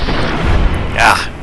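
A rifle shot in the video game Fallout New Vegas, a single booming report with a low thump followed by a brighter burst, heard under speech.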